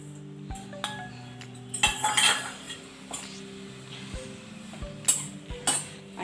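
A spoon scrapes and clinks against a pan as dry-roasted coriander seeds are taken out, giving scattered metallic knocks and rattles that sound up close over a low background hum.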